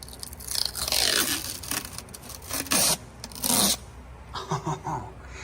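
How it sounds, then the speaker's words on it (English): Protective film being peeled off a new aftermarket differential cover, a close, crisp tearing and crackling strip that comes in several drawn-out pulls with short pauses between. "that is a little ASMR of the peel"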